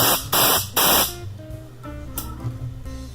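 Loud hissing bursts of compressed air from a modified air blower wand, three strong blasts in quick succession followed by a weaker hiss with a faint whistling tone, all close up.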